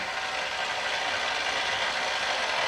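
A kitchen stand mixer kneads cinnamon roll dough with a continuous close mechanical whir and rattle of gears, steady and unbroken throughout.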